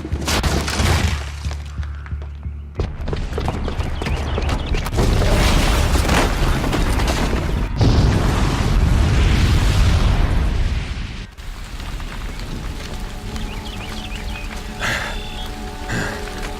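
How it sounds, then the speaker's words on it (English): A booby-trapped bomb detonates in Horizon Zero Dawn, a long, loud rumbling blast with crashing debris and crackling that rolls on for several seconds before easing into a quieter settling tail. "the booby trap on the bomb downstairs is gonna get set off"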